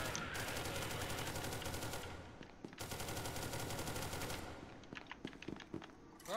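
Rapid automatic gunfire in SCP: Secret Laboratory, a long rattling burst, a brief pause, then another extended burst that trails into scattered single shots, fairly quiet in the mix.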